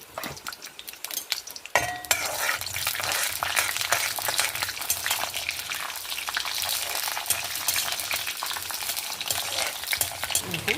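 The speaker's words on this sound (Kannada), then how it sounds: "ಸಾಸಿವೆ ಹುಟ್ಟುತ್ತಾ ಇತ್ತಲ್ಲ" Mustard seeds spluttering and popping in hot virgin coconut oil, with chana dal in the pan: a steady dense crackle that starts after a sharp clatter and continues loud and close, with occasional metal clinks.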